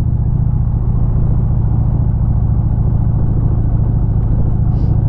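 Indian Challenger motorcycle engine accelerating smoothly in second gear, a loud, steady, close rumble with a pulsing low throb and no voices.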